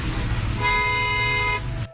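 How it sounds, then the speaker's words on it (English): Car horn sounds one long, loud, continuous honk amid road traffic, with engine and road noise underneath. "The car he cuts in front of even beeps loudly, just hurrying him to get out of their way."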